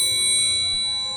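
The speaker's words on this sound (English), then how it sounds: "Freddy lifts up a silver triangle." A single ringing strike of a small silver triangle, bright metallic tone with sustained shimmering overtones decaying slowly, heard alone.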